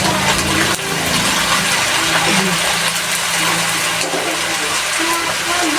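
Water pours steadily into a cooking pot to make broth for a simple sautéed dish, a loud continuous gush that runs for several seconds at close range.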